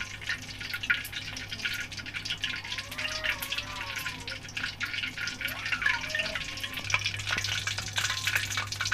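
Small pieces of leftover roti frying in a pan make a steady, moderate sizzle and crackle with light stirring and faint scraping, continuous throughout with no speech.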